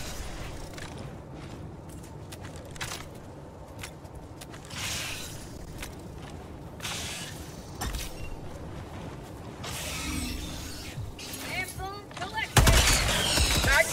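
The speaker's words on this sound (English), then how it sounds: "Oh, machine gun." Scattered bursts of gunfire and mechanical clatter from Helldivers 2 combat, ending in a louder, denser volley of firing, with a voice talking intermittently over the action.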